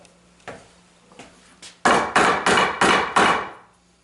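Mallet or hammer tapping a tapered wooden plug flush into a hole in a wooden bed frame: a few light knocks, then five firmer, evenly spaced solid wooden thuds, close and loud, no talk.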